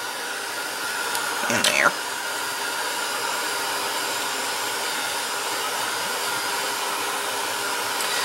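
A hair dryer blows on a glitter craft project in a steady, loud whoosh that keeps going throughout. A brief voice and a quick sweeping shift in pitch come near the start.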